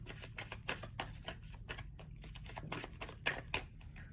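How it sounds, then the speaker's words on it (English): Tarot cards shuffled by hand, a close, steady run of quick papery riffling and flicking clicks, alone without talk. "I'm going to start shuffling the cards."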